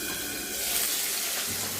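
Pabda fish frying in hot oil with potatoes added, a loud, dense sizzle and hiss that holds steady close by.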